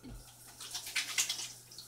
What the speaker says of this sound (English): Wash your hands real quick.